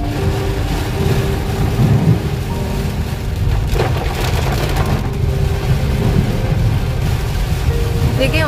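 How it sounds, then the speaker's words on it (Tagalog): Heavy rain pours in a steady, dense roar during a drive in a 2024 Geely Okavango on a mountain road, with a low rumble swelling briefly partway through. "Dahan-dahan kami kasi ang lakas ng ulan."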